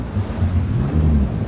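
A dredging vessel working on the Demerara River in Guyana rumbles with a steady low engine drone and churning water, heavy wind buffeting the microphone throughout, continuous and loud.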